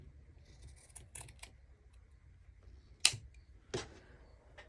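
Scissors snip through fabric below the seam of witch hat wreath legs in a few sharp, quiet cuts close by, separated by pauses and faint handling rustles.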